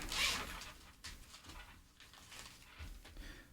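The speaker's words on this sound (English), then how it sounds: "There is, in this little zipper pouch," A short zipper pull near the start, followed by soft rustling and handling of a small pouch holding a replacement mic foam and windshield, from an Xvive U7 wireless mic kit, fairly quiet throughout.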